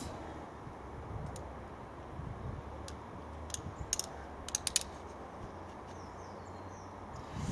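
A tape measure is pulled out to measure a hand pressure sprayer, producing faint scattered clicks and a short cluster of sharper ratcheting ticks over a quiet background.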